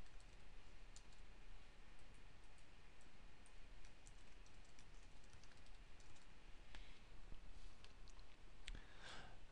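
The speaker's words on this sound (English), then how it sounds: "Type in a name of your sync configuration." Someone types a name on a computer keyboard, producing a run of quiet, irregular key clicks over a faint steady background hum, with no one speaking.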